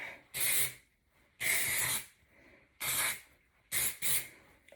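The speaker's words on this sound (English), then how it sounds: "do a quick spray all over." Five short bursts of hairspray hiss up close, each about half a second to a second long, separated by brief pauses.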